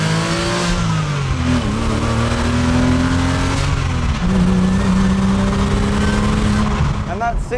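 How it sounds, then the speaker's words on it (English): Porsche Boxster 986 flat-six engine pulling hard through first gear to redline, a loud continuous rising rev with a gear-like pitch sweep and sharp drop near the end. "So now let's give it a first gear pull all the way to red light."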